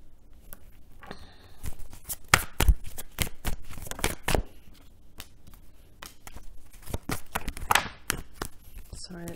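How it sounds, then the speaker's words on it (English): A deck of tarot cards is shuffled by hand in sharp, uneven riffles and snaps, close and fairly quiet, with brief pauses between bursts of card noise. "Sorry, that's my poor shuffle."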